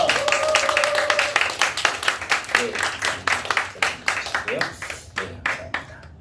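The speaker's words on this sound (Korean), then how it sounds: "우리 격려와 환호로 우리 박수 보내드리겠습니다" Youth congregation at a church worship service applauding together, a dense run of claps with a few cheers that thins toward the end, fairly close in a room, with some talking mixed in.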